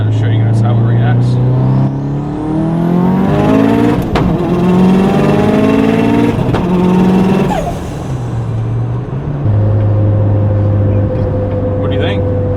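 A 600+ bhp 2007 Subaru WRX STi accelerates hard through second gear. Loud, close engine roars steadily upward in pitch, dips briefly at a shift, then settles into a steady drone.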